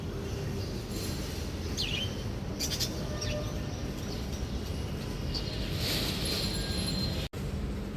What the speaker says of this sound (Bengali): এখানে আমার পাখিগুলা